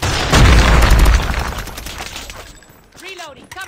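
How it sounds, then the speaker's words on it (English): A predator missile strike in a multiplayer shooter match: a heavy, booming blast at close range that rumbles loudly for about a second, then decays, with a brief voice and tonal game effects trailing at the end. "predator missile inbound"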